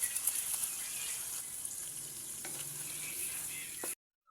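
Butter garlic shrimp and mushrooms sizzle steadily in a pan, a dense frying crackle with occasional utensil clicks before the sound cuts off abruptly near the end.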